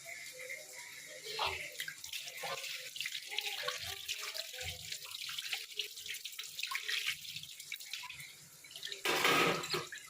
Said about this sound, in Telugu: సో ఈ బౌల్ ఇక్కడ క్లీన్ చేసేస్తాను అన్నమాట